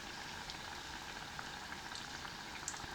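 Cassava pieces frying in hot oil in a pan, a steady fine bubbling sizzle with light crackles, close and continuous, no talking.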